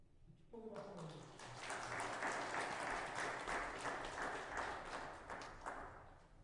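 A congregation applauds during a Sunday church service in Pyeongchang. A short spoken phrase comes first, then clapping swells and holds at a moderate, steady level.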